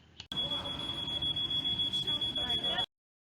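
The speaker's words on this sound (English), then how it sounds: "When the fire alarm goes off, you will see strobe lights and the alarm will sound." A fire alarm blares in a food facility, a loud sustained high-pitched tone with pulsing beeps that starts abruptly and cuts off after about two and a half seconds.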